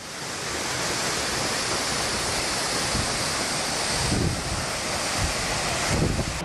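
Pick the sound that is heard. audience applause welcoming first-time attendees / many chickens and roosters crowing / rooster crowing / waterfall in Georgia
waterfall in Georgia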